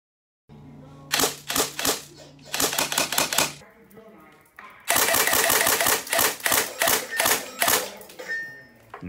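An airsoft gun fires 0.25 g BBs down a shooting range in sharp, close clacking bursts: a short string of rapid shots, a brief gap, then a longer rapid volley of snappy cracks.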